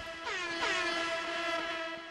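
A blaring air horn sounds in the Ravenfield battle game, one long sustained tonal blast with strong stacked harmonics, loud and close, lasting throughout with slight wavering and no talk.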